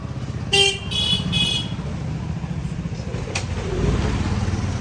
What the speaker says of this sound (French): Bon, après, t'as les klaxons tout le temps